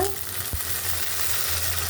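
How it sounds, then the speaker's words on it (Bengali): Onion frying in hot oil with bay leaves in a pan, a low, even sizzle that holds steady throughout, with one faint clink early on. "তেলের গ্যাস দিয়ে দিলাম কি পেঁয়াজটা একটু ভাজা নিলাম"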